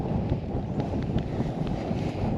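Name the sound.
wind on a boat while fishing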